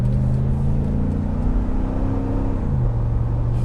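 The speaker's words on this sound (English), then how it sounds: "we're going to take a little drive down the road here" A car cruising down a road at speed, a steady loud engine drone and tyre rumble with the engine tone sliding slightly as it shifts, heard close from inside the vehicle.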